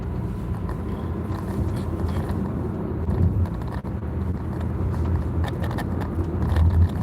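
Cars driving on the road heard from inside a moving vehicle on the way to work, a steady low rumble of engine and road noise with a few passing swells, no talk.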